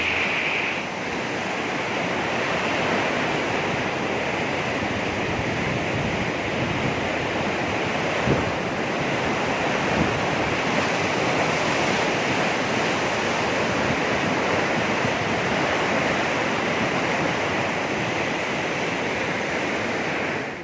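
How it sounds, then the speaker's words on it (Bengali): Steady, broadband rush of fast-flowing Ganges water near its source, a continuous roar at even loudness for the whole stretch with no voices over it. "জলের আওয়াজ, গঙ্গা মায়ের আওয়াজ শুধু একবার শুনে নাও নিজের কানে"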